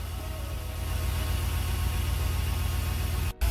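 The engine of a 2005 Chevy Express box truck idles with a misfire, a steady low pulsing rumble broken near the end by one brief stumble.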